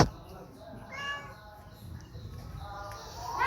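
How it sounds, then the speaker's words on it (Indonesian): A cat in a kitchen meows a few times close by, with rising, drawn-out cries separated by short pauses. "Dia mengeong-ngeong mencari-cari sesuatu"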